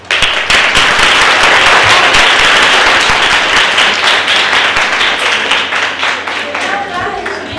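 An audience at a children's and youth literature conference in Extremadura breaks into loud, dense applause that rises quickly, holds strongly for several seconds and then thins slightly toward the end.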